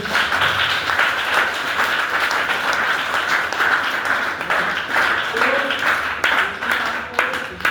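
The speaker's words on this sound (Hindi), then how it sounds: "जोरदार ताली नीचे हमारी कंपनी के लिए" A large audience at a company training seminar claps loudly and continuously in dense, sustained applause, with voices mixed in beneath the clapping.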